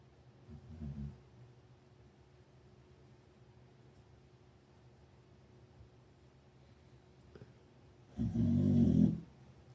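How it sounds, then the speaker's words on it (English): Two separate rumbling snores from a beagle, one near the start and a louder one near the end, with quiet steady background noise in between. "Hear my beagle snoring."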